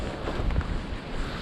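Strong wind gusts roar through woodland during a winter storm, a steady rushing buffeting with a surge near the middle, loud and close with no voices.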